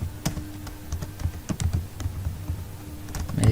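Computer keyboard being typed on while writing C++ code, a quick irregular run of close, crisp key clicks and thuds with no talk.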